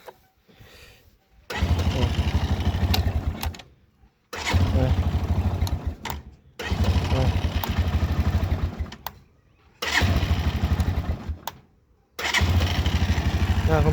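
A motorcycle engine is started and revved in four loud, close bursts of running, each followed by a short silence before it fires up again.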